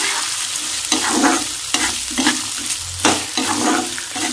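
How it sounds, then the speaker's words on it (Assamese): Spices with ginger and garlic sizzle in an oiled pan while a spoon stirs them in repeated scraping strokes, close and steady with rhythmic clatter. "এতিয়া মছলাখিনি মই ইয়াতে ভাজি ল'ম"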